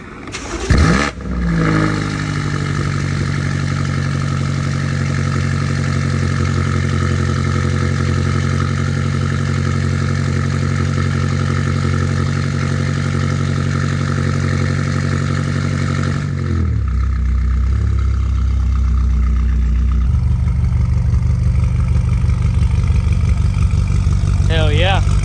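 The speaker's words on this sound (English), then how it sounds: "stick around for the first startup and some revs coming soon." BMW S63 twin-turbo V8 with catless downpipes cranks and fires, then settles into a loud, steady, rumbling idle that continues with a slight drop in pitch partway through, close to the microphone.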